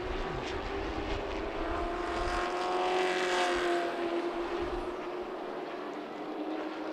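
Race cars roar down the back straightaway at Myrtle Beach Speedway during a short-track stock car race, a loud continuous engine drone swelling as the pack closes in, then easing slightly, with no talk.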